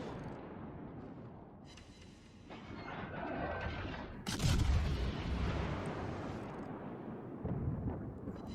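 Naval gunfire in World of Warships: Legends, with the HMS Edinburgh in battle, comes as dense rumbling booms. The heaviest blast lands midway and rolls on under continuous low battle noise.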